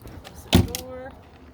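A camper door closes in a single short thud, close by, with a little rattle trailing after it.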